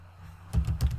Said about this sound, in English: now type in Java